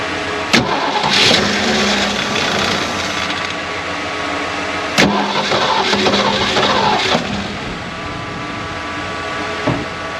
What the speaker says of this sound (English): It's firing on the gas that I put in there.